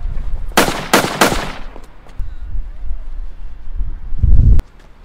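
Three sharp gunshots fired in quick succession in a short film, loud and close, followed by quieter rustling and a thud.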